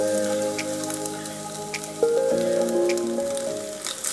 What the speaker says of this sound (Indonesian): Lalu kita masukkan telur satu persatu ke pinggiran wajan.